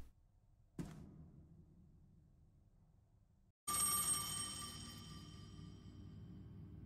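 A telephone rings in the Dishwashing Simulator video game, first a single jangling ring that fades, then after a brief gap a louder, sustained electronic bell that keeps ringing to the end.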